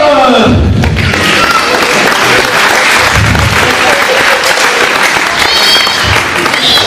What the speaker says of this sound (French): Je vous demande un tonnerre d'applaudissements pour Pénélope, mesdames et messieurs